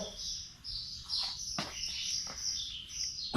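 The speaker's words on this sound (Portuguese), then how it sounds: "Os passarinhos estão querendo aparecer na gravação hoje." Small birds chirp and tweet near a motorcycle workshop, several quick high calls overlapping at close range, with a faint low background hum and no talking.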